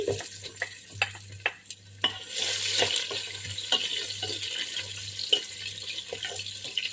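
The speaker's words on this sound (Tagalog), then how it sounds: "Isunod natin ang kamatis. At haluin lang." Tomatoes added to a cooking pot and stirred, with a low sizzle, wet squelching and occasional spoon knocks against the pot, close and moderately loud.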